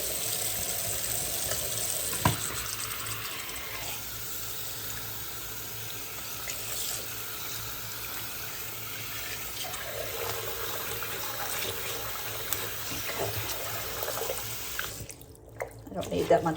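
Tap water runs steadily into a sink while soapy material is rinsed, a continuous close splashing wash that carries on for the whole stretch before cutting off near the end.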